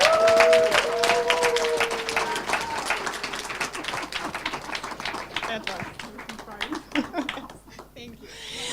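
Audience applause at an internet governance conference session in Sofia, starting loud over a voice and a few sustained tones, then thinning into scattered individual claps that fade out.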